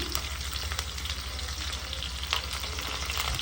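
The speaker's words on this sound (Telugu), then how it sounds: "కరివేపాకు కూడా వేసి బాగా ఫ్రై చేసుకోవాలన్నమాట రోస్ట్ చేసుకోవాలి" Curry leaves frying in a pan of hot oil for a Telugu village-style vankaya bajji make a steady, close, fairly quiet sizzle that crackles without pause, with no voices.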